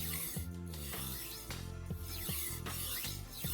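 A knife blade is drawn back and forth across a sharpening stone in a steady rhythm of scraping, rasping strokes, about one every half second, close and fairly quiet.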